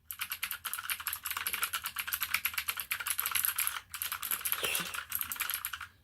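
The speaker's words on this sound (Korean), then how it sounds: "기계식 키보드 중에서는 이제 청축이 확실히 타격감이 확실히 있는 것 같아요" Typing on an Apoint TUF mechanical gaming keyboard with blue switches and round pebble keycaps, a fast close run of crisp clicky keystrokes with one brief pause, loud and alone.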